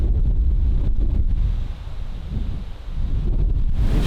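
Wind gusts across the bush on a safari game drive, a loud broadband rushing with buffeting microphone rumble that eases briefly midway before surging again.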